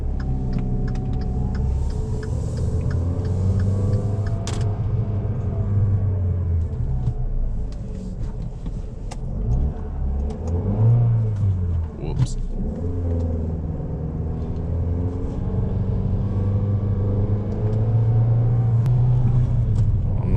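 Dodge Dart engine revving with RPM climbing too high under light throttle, a steady mid-pitched rumble that rises and falls in waves, heard from inside the car alongside a voice.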